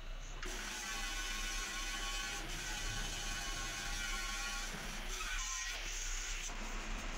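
A metal lathe cuts threads deeper into a screw for a syrup filling machine, giving a steady mechanical whir and grinding hum that runs for several seconds with faint scraping changes.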